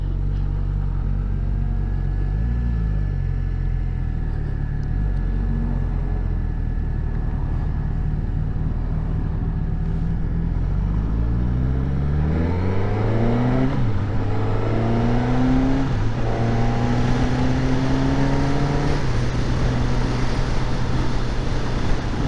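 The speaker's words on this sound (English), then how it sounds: "Wow, the shifting is very smooth on the auto blipper." A Suzuki GSX-S1000 GT motorcycle engine revs up through the gears with an auto blipper, its pitch climbing and dropping at each smooth shift, heard steadily over loud wind and road rumble.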